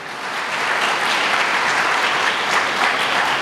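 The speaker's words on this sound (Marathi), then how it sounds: "पण आपण टाळ्या वाजूया, येशू ख्रिस्त आज आहे" A church congregation at a Marathi Sunday service claps together, a dense, loud, sustained round of many hands that keeps an even level from start to finish, with no voices over it.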